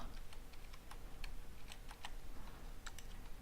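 Someone types data into a computer keyboard with quick, irregular close key clicks over a quiet room hum, no voices.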